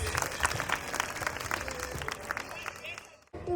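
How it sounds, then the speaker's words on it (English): Parents at a school annual day celebration applaud a nursery child with a steady wash of crowd clapping that fades near the end, broken briefly by a sharp cut before sound resumes. "Please give him a big round of applause, parents."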